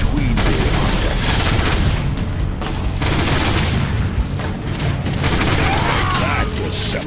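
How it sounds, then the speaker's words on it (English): Grenade launcher fire and heavy explosions in the Transformers: War for Cybertron video game, amid battle in Iacon city, give a loud, continuous barrage of booms and rattling blasts throughout. "Firing grenade."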